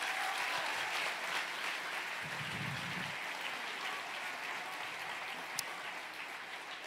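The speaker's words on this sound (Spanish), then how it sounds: "Yo quiero un aplauso al Señor por la gente." A church congregation applauds during a Spanish-language service, a steady wash of clapping from many hands that holds evenly throughout and fades slightly toward the end.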